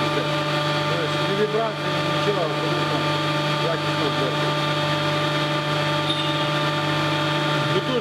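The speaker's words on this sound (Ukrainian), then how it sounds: "Це такий вентилятор працює" Steady mechanical hum of a running ventilation fan in a factory, with a constant tonal drone, with a person talking over it throughout.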